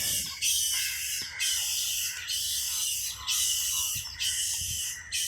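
Birds call in a wetland park at Nawala near Nugegoda, a loud, high, shrill chorus that rises and falls in repeated surges of about a second each, with no talking.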